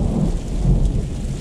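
Heavy rain pours down in a desert storm, a dense, loud, continuous roar of downpour with deep rumbling underneath, close and steady with no voices.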